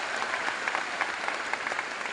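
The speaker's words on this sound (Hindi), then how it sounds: "प्लीज प्लीज जोरदार इनके लिए भी एक बार ताली हो जाए।" An audience at a business success-day event breaks into steady, dense applause, many hands clapping close together without a break, loud and even throughout.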